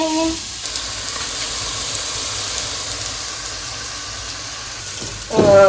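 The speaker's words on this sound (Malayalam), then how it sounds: "ഇനി ഈ സവാള ഒന്ന് വഴണ്ടിട്ട് ഞാൻ വരാം." Onions sautéing in a pan for an Iftar curry give a steady broadband sizzle and hiss that holds for several seconds, with a short burst of voice right at the end.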